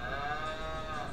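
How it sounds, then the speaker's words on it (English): A cow moos in one sustained, droning low call that fills the whole moment, steady and fairly close, with no talking. "Cow said moo."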